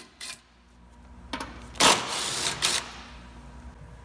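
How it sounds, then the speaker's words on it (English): Quiet tool clicks and short rattling ratchet bursts as bolts are removed from the taillight pocket of a second-generation Honda Ridgeline, a few separate bursts close by with no speech. "Then come around to the taillight pocket and remove these two bolts."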